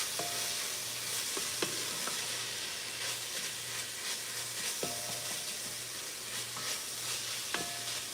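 Chilli sizzles steadily in a hot pan with a constant crackling hiss, broken by occasional clicks and light scraping.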